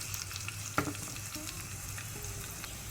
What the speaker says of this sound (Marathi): आतां लसूण भाजून येताना ताका 2 लांब मिरसांगो मोडून घालच्यो.